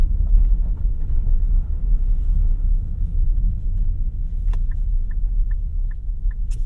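A 2025 Nissan Murano Platinum with a 2-liter engine pulls under acceleration, a steady low cabin rumble of engine and road noise with no talk, a few faint ticks near the end.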